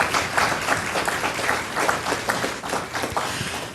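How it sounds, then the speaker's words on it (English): Audience at a community resource fair and symposium gives a round of applause, a close, dense burst of many hands clapping that holds steady with slight swells throughout. "Let's give them a round of applause."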